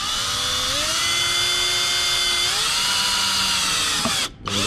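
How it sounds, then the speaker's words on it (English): Power drill fitted with a square bit, used while assembling a picture frame, with a steady close high-pitched whine that shifts pitch slightly under load before cutting off briefly near the end. "square drill bit."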